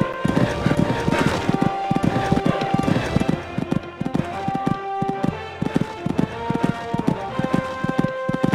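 Rhythmic hoofbeats clatter in a quick galloping pattern as a horse jumps cross-country fences in the video game Equestriad 2001, Kentucky three-day event, with a few louder thuds over a steady background of game music.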